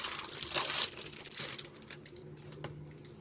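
Plastic wrapping on a random gift box crinkles and tears as it is pulled open, a close, busy rustle with sharper crackles early on that thins into sparse crinkles and a single snap near the end.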